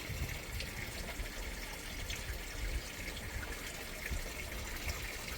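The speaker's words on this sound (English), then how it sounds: "It's nice to sit out here and listen to the water, watch the trees." Water trickles and splashes steadily through an outdoor 60-gallon aquaponics system with grow beds at night, a continuous near, moderately quiet flow with no talking.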